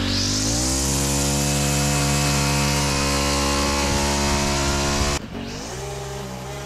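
Petrol lawn mower engine running steadily and loud close by, a continuous droning buzz that drops off sharply near the end as the load or throttle changes.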